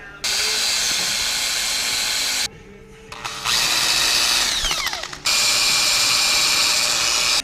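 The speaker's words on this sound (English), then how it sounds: "Now let's drill this." A power drill whines loudly up close as it bores into a metal part for a 1/14-scale lowboy trailer, running in long bursts with a short pause and spin-up in the middle.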